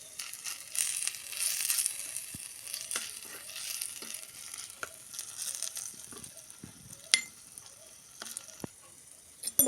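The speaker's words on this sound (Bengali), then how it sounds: "বন্ধুরা এই তো আমাদের আলু ভাজা হচ্ছে।" Cut potatoes frying in hot oil in a small toy-sized pan during miniature cooking, a steady close sizzle with scattered clicks and scrapes from a spatula.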